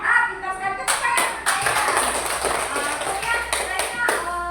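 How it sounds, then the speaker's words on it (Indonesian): Small group of children clapping in a classroom lesson, a few distinct claps ringing out quickly and then a looser patter of hand claps, with voices and chatter underneath. "tepuk tangan"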